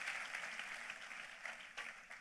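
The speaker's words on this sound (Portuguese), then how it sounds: "Vamos aplaudi-lo, porque nós temos a quem clamar" A church congregation applauding during a sermon, steady dense clapping from many hands throughout, moderately distant and without talk.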